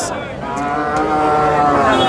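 Young bull calves and cattle lowing at a livestock market, a loud, close moo sustained across the whole stretch with other animals faintly audible behind it.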